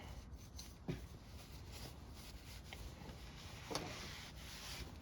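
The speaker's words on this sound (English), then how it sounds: "I'm gonna wipe that off." Soft cloth rubbing over a vintage Dia Compe road bike brake, a faint continuous scrubbing with a couple of brief knocks, close and quiet with no talk.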